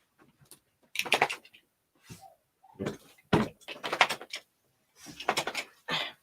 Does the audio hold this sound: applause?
no